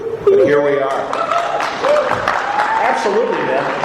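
An audience claps for the comic book creators behind Superman at an 80th-anniversary roundtable. The applause is a steady wash that runs beneath someone talking close to the microphone.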